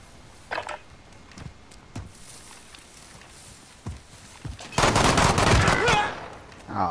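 Gunfire in the video game Call of Duty: Modern Warfare during a multiplayer match, scattered single shots and thuds early, then a loud sustained burst of automatic fire near the end.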